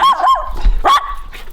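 Dogs barking nearby in a few short, sharp bursts over about a second and a half, heard alone with no talk.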